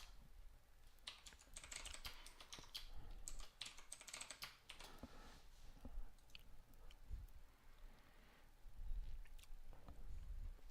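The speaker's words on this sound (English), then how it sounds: "It really helps if you're typing in the window." Rapid, irregular clatter of typing on a computer keyboard, close and steady, with bursts of quicker keystrokes and no talking.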